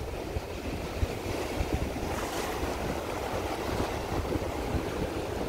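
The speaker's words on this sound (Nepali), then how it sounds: "यता यता समुद्रले फालेको पानी ओलोलोलोलोलो माथि जान्छ, त्यहाँबाट फर्केर फेरि आउँछ, अर्को लहर आयो फेरि अर्को लहर आयो" Ocean surf rolling onto the beach at Port Macquarie, a steady broadband wash of breaking waves with wind noise buffeting the microphone, fairly loud and continuous with no voices.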